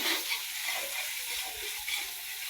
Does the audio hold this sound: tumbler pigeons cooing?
no